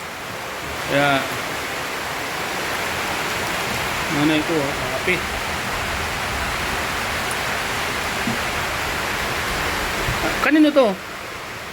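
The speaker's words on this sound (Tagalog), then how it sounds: "Bigla pong lumakas yung ulan mga kalingap." Heavy rain pours in a constant broadband roar that stays strong throughout, while people speak briefly over it now and then.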